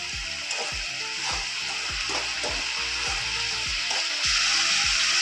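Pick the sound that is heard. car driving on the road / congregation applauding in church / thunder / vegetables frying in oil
vegetables frying in oil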